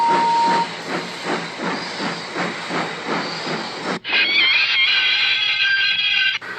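Steam locomotive of a breakdown train on a model railway, heard close with a rhythmic chuffing hiss that gives way to a loud, sustained whistle and steam hiss, with no one talking.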